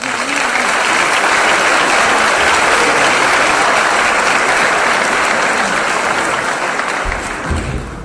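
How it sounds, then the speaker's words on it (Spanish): Loud, sustained applause from an audience at a political forum, dense and steady for about seven seconds before thinning out at the end. "Fuerte el aplauso."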